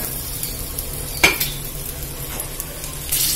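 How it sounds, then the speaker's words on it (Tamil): Onion sautés in butter in a pan for a soup, with a soft steady sizzle and close stirring and a utensil clinking against the pan now and then. "வெண்ணெயில தான் வதக்கி காட்ட போறேன். வெங்காயத்தை போட்டாச்சு, வதங்கட்டும்."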